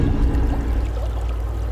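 Water flows in a steady, continuous rush in the large pool beneath a waterfall, a dense wash of sound with no pauses or voices over the short stretch.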